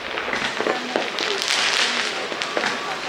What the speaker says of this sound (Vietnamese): Năm nay mình thấy có rất nhiều nhà bắt đầu đốt pháo hoa, tiếng pháo và ánh sáng vượt lên khắp nơi